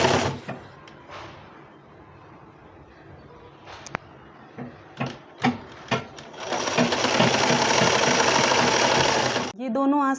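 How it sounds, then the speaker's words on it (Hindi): A sewing machine runs steadily for several seconds, stitching a narrow folded hem on a newborn baby's jhabla dress, after a few short bursts and clicks of starting and stopping, with soft talk in the background. "बारीक सा फोल्ड करते हुए ये सिलाई लग रही है"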